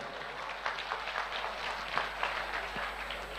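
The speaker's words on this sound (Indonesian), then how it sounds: "berikan tepuk tangan dulu untuk teman-teman semuanya" A large audience at an Islamic religious lecture claps in a soft, even wash of applause that sounds distant and low in level, lasting a few seconds.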